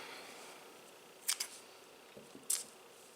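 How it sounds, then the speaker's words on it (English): A few crisp metallic snips of scissors cutting crochet yarn, two quick cuts then another pair, close and quiet with no talking. "cut your yarn"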